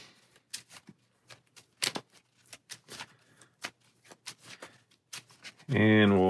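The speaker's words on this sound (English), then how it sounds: "So give these a shuffle." A deck of Dice Throne Adventures cards being shuffled: a run of crisp riffling clicks and snaps over about five seconds, ending with a loud burst of other sound.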